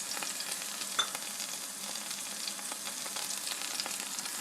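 Mushrooms sautéing in a pan, a steady close crackling sizzle that runs unbroken throughout with a few faint clicks and no voices.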